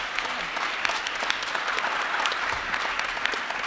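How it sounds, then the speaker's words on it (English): Conference audience applauds a panel at a business forecast event, a steady, even wash of many hands clapping from across a large room, moderately loud throughout. "please, a big round of applause for this panel"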